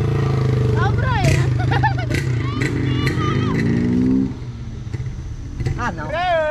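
Loud motorcycle exhausts roar and rev up and down nearby, mixed with men chatting over the engine noise.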